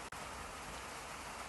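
Steady rain falls during a wet spell in Kinnaur, a soft continuous hiss with no talk and no clear thunder.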